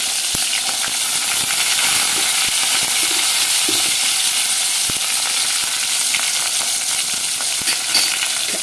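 Green chillies, onions and curry leaves fry in oil for a broad-bean and coconut curry, giving a steady loud sizzle throughout with occasional sharp ticks and spatula scrapes, no talking.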